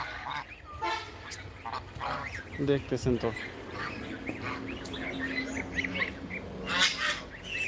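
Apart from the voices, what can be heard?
ducks quacking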